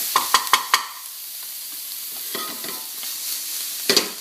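Onions browning in a frying pan give a soft, even sizzle, opened by four quick, evenly spaced taps of a utensil on the pan, with more scraping stirs later.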